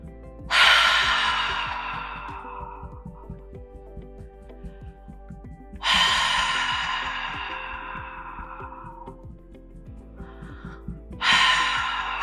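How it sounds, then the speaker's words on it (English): A throaty breathing exercise produces three forceful, rasping exhalations pushed from the throat, each loud at the start and tapering off slowly, separated by quiet pauses with a faint low hum beneath. "very throaty breath, like that from your throat."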